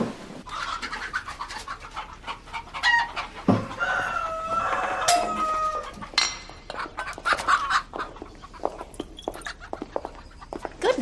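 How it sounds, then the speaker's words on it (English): Cockerels kept as table birds crow and hens cluck around a rural English yard, with overlapping calls and scattered pecking and movement and no talking. "Mostly cockerels, they be."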